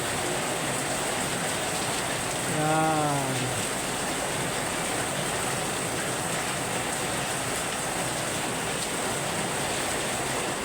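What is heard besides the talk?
heavy rain pouring at night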